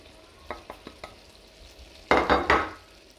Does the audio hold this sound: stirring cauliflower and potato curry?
yes